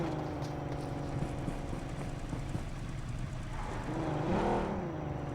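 Vehicle engine droning while driving in Battlegrounds Mobile India, a steady mid-level motor hum with rattling, clattering texture and a rising rev near the end, with no talk.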